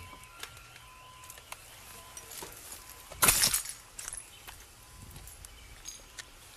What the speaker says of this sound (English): Wonder what they smashed the window with